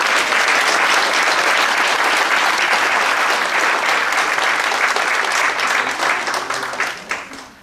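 An audience at a commemorative book launch applauds in one sustained, dense round of clapping at close range, fading out at the end.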